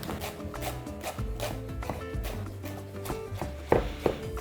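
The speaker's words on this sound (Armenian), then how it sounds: "Այժմ մանր կտրատենք" A knife chops fresh greens finely on a board for a sorrel and bean soup, giving a steady run of quick, close taps with a couple of heavier strikes near the end.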